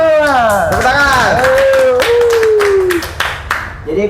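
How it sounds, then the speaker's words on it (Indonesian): An audience claps briskly for a guest on a talk show while a loud voice whoops over it in a rising, falling call, with the clapping thinning out near the end. "Tepuk tangan."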